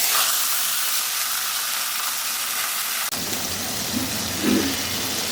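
Cinnamon, cardamom, cumin and a torn dried chili sizzle in a small amount of hot oil, a steady, fairly loud hiss that thickens and crackles a little more halfway through, with no voices.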